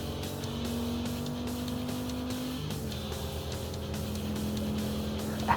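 Racing car engine in the Downtown Club racing game on Quest: a continuous droning engine with shifting pitch, steady and fairly loud, with no talking.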